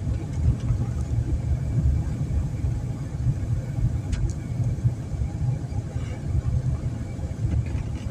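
Heavy traffic on regional road DW934 in Chełm Śląski is heard from inside a moving car as a steady, dense low engine and road rumble, with occasional faint ticks and no distinct passing vehicles.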